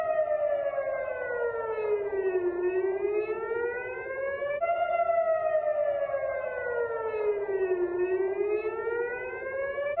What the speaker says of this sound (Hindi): तो सायरन की आवाज आप सुन सकते हैं।